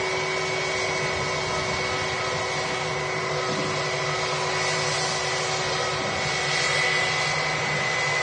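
Steady, loud jet engine roar from an EasyJet Airbus A319 arriving from Geneva at Manchester Airport, a continuous broadband whine with tonal hums, holding level throughout with no talk.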